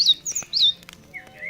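Cheep, a little bird character in The Book of Unwritten Tales, tweets in several quick high chirps and a trailing softer whistle, near and clear with no speech over it.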